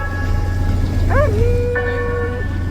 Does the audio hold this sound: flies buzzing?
no